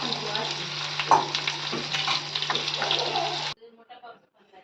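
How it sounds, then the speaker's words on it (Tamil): Kebab-style evening snacks dropped into hot oil, frying with a loud, busy sizzle and some stirring clatter for several seconds before the noise cuts off, leaving faint trailing sounds. "இப்போ ஒன்றா இந்த ஆயிலில் போட்டுக்கலாம். கபாப் மாதிரி ஃப்ரை பண்ணணும்."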